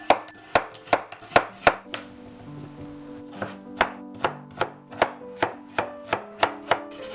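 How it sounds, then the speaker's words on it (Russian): Close, crisp knife strokes dicing peeled potatoes on a board in a regular rhythm, pausing briefly before the chopping resumes at a steady pace. "И на небольшие кубики нарезаем картофель очищенный."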